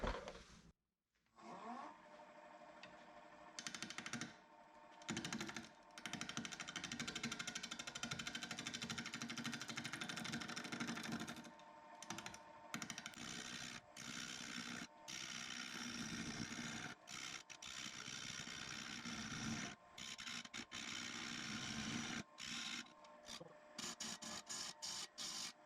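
A 3/8 inch bowl gouge cuts a resin piece spinning on a wood lathe at 750 RPM, giving a harsh continuous rasping scrape broken by brief pauses, loud and close.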